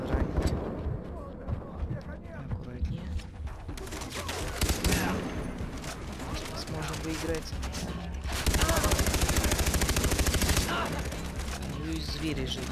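Rapid machine-gun bursts from an enemy gunner in the shooter Far Cry 3, loud dense volleys of automatic fire that come and go over the clip, with someone talking over them.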